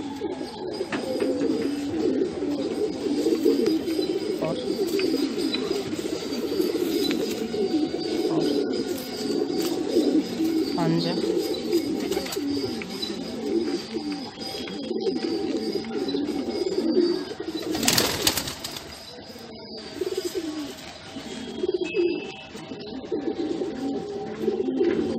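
Fulsira and Madrasi pigeons cooing in a loft, a continuous low chorus of murmuring coos with occasional chirps, and a brief loud rustle or flutter partway through.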